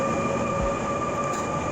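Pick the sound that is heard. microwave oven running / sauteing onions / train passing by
train passing by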